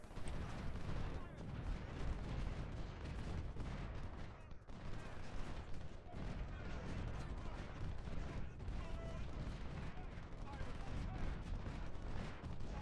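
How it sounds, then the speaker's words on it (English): Artillery and musket fire in the Civil War strategy game Ultimate General: Civil War at Antietam, with a dense, continuous rumble of distant shots and booms under a talking voice. "And now my artillery is getting shots."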